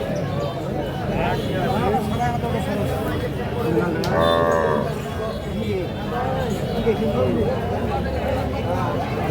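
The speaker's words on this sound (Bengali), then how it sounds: "এটা একটা ক্রস জাতের গাভী, সাথে একটা বকনা বাচ্চা।" A crossbred Holstein Friesian cow, with a young heifer calf beside her, gives one loud, drawn-out moo at a busy cattle market. Steady crowd chatter and voices continue around it.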